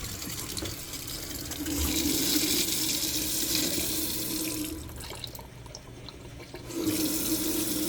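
Filtered cold water runs steadily from a tap through a three-stage filter in a box van, a broad rushing hiss that briefly thins and quiets before returning at full flow.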